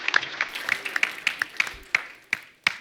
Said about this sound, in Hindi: एक बार अक्षय पाजी के लिए खुल के तालियां।